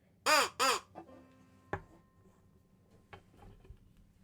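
A homemade crow call imitates a crow with two loud, harsh caws close up, followed by faint clicks and taps in a quiet workshop.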